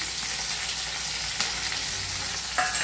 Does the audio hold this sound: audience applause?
no